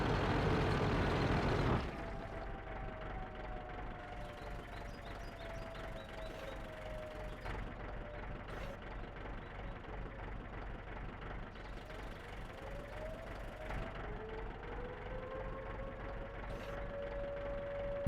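A JagdPz E-100 tank destroyer in World of Tanks reverses with a steady, heavy engine rumble and rattling track mechanics, while a faint whine rises and falls over the drone throughout.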